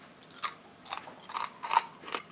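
Crisp, crunchy chewing of kale chips close up, five distinct bites in a steady rhythm with no talking.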